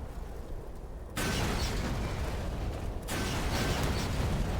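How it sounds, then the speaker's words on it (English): Explosions in the video game Black Mesa: two sudden heavy blasts a couple of seconds apart, each leaving a loud, sustained rumbling roar, with no speech. "Many explosions were had that day."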